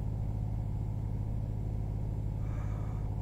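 A truck engine in the Euro Truck Simulator game drones steadily at high speed, a continuous low rumble with a faint rising whine near the end, heard alone without talk.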